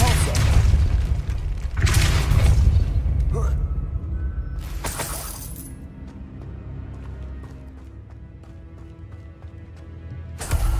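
In Hogwarts Legacy, the Depulso spell goes off in heavy booming blasts, several loud whooshing bursts separated by quieter stretches of game ambience, with another blast starting at the very end.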